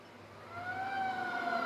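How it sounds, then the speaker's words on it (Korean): A fire engine siren rises and wails at a fire at a tool repair shop at night, growing louder as it approaches, heard alone. "소방차가 사이렌을 울리고 소방대원들이 분주히 오갑니다."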